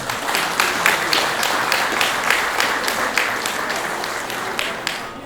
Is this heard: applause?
yes